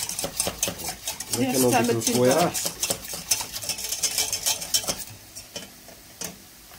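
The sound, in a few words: stirring béchamel sauce in a pot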